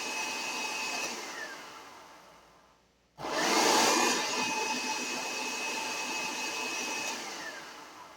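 Blender pureeing tomatoes for canning juice: a steady motor whine winds down to near silence, then restarts abruptly at full power and runs loud and constant up close.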